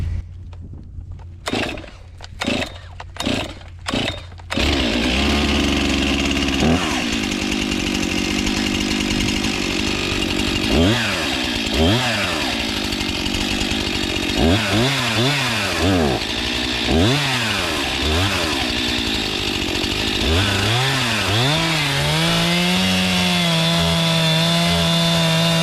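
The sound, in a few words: chainsaw with dull chain cutting wood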